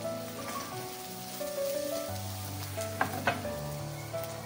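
Potato and flour sauté in a hot pan for a cumin-and-pepper potato bhaji, giving a steady close sizzle with a few brief stirring clatters, while soft tonal music plays underneath.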